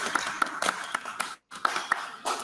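Schoolchildren in a classroom clap for one another, a sparse, uneven run of separate hand claps with a short pause midway, fairly close and not very loud.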